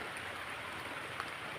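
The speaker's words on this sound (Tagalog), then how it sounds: "So ayan guys, umulan." Steady rain falls outdoors in the Philippines, a continuous soft hiss of drops with no talk, fairly quiet and even for the whole stretch.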